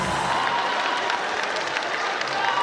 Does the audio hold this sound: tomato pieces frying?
no